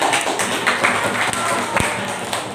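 Pupils in a classroom clap for a classmate, a loose patter of many hands over a noisy room, steady throughout with a sharper smack near the end.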